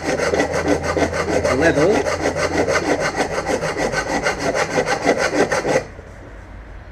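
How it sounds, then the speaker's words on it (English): A metal part for a 1936 Studebaker 2T2 J5 pickup hot rod is filed by hand across its top, producing loud, steady, rhythmic rasping strokes close by. The strokes stop abruptly near the end, leaving a quiet background. "I try just filing across the top here, which will give us"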